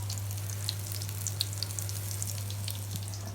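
Oil crackles and spatters in a pan as spice paste fries, a close continuous sizzle scattered with small sharp pops, over a low steady hum.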